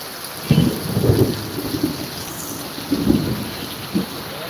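Heavy downpour pours down steadily as a dense, loud wash of rain, with low rumbles of thunder swelling and fading several times underneath.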